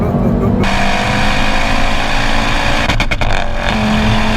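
An Audi TT RS engine revs hard and climbs in pitch, with a brief dip around a gear change, loud and close, with a voice talking over it.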